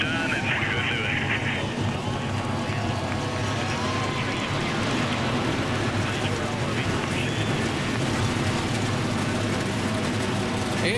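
Forty-three NASCAR stock car engines running together at the start of the 2008 Ford 400, a dense, continuous loud roar with no gaps, with crowd and broadcast noise mixed in.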